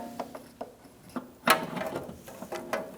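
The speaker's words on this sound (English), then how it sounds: "you're going to need a 10mm swivel socket and an extension to get to that" Ratchet with a 10mm swivel socket and extension working a vapor canister nut under a 2012-2018 Ford Focus, giving scattered metallic clicks and one sharper clack, close and fairly loud, with no talking.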